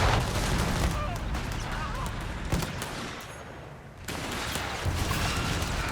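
Rapid bursts of rifle and machine-gun fire crackle through a Company of Heroes 3 battle, dense and overlapping with sharp reports, under continuous fast commentary.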